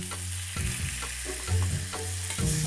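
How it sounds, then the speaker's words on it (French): A rack of pork crusted with parmesan and pepper sizzles loudly in a pan as butter is spooned over it, giving a dense frying hiss with rhythmic scraping bastes, close and continuous, with no talking. "on va pouvoir ajouter du beurre et on va l'arroser généreusement"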